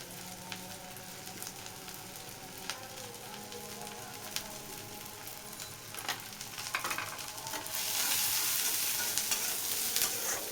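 Chili and cumin fry in hot oil in a pan, a constant near crackle and sizzle with scattered pops that swells louder and hissier toward the end.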